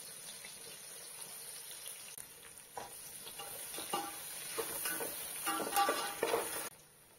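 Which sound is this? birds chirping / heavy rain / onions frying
onions frying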